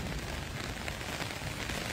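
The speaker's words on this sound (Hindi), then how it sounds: "बहुत तूफानी, बहुत तेज बारिश" Heavy stormy rain pours steadily in Canada, a dense, continuous broadband wash that stays loud and unbroken throughout, with no voices over it.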